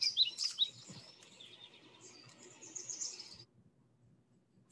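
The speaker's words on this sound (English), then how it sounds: "I'll hear my bluebirds out in the yard singing" Eastern bluebirds singing in a yard, soft warbling phrases and chirps, fairly faint and slightly distant, over a quiet outdoor background.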